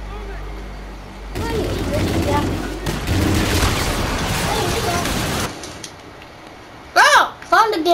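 Rapid gunfire from a weapon in Call of Duty: Infinite Warfare: a loud, sustained burst of shots lasting a few seconds, followed by quieter game ambience and a person speaking.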